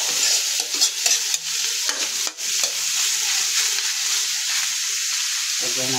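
Alamang shrimp paste frying with pork mask until crispy, giving a loud, continuous hissing sizzle with intermittent scraping stirs close by, with no voice.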